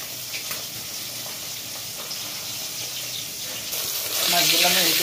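Fish, along with prawns, frying in a pan in a home kitchen, a steady hiss of oil that swells louder near the end, with a voice talking faintly underneath.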